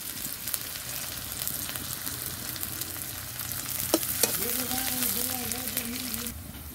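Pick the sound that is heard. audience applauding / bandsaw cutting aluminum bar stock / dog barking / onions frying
onions frying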